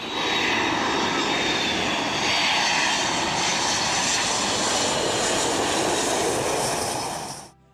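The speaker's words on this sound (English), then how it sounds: "many of the planes that do land tend to look like they're just flying over the heads of" A low-flying airliner roars in to land over Maho Beach, its loud jet engine filling the whole stretch with a broad, rushing drone that holds steady, then cuts off sharply at the end.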